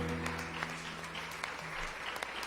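A church congregation at a family service claps together in a dense, continuous round of applause, steady and fairly loud throughout with no pauses.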